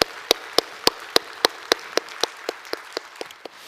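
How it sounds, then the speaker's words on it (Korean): A church congregation claps in unison at a year-end Sunday service, about thirteen crisp, evenly spaced claps at a steady slow rhythm over a faint room hiss, with no talking. "그 좋으신 하나님께 우리 한번 영광의 박수 올렸으면 좋겠습니다."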